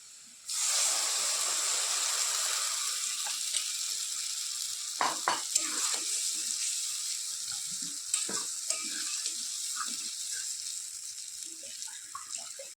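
Potato, semolina and gram flour batter hits hot oil with a sudden loud sizzle that settles into a steady bright hiss, broken by a few clatters of utensils and a quiet voice.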